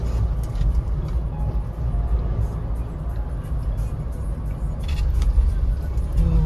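Heavy, continuous road traffic on the mountain route to Yamunotri in Uttarakhand, with vehicle engines and tyre rumble forming a steady, loud, close wash of noise with no clear pauses.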